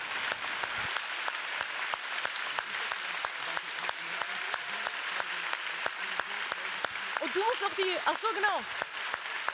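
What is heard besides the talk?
audience applause for the young jury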